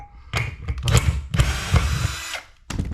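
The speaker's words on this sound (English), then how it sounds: "So now that it is fully attached, I can take out this screw I had in the center." A power drill backs a screw out of the center of a drywall wall patch, with two or three bursts of whirring and a short stop between them, close and loud.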